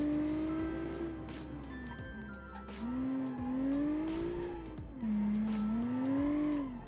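A car with a Honda J37A5 engine replica is driven in the Automation video game, its engine note rising and falling as it revs. Tires squeal close up throughout, with no talking.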